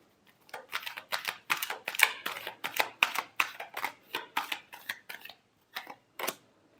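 Tarot cards being shuffled by hand, a close run of quick crisp riffles and slaps in uneven bursts with short pauses between, no talking.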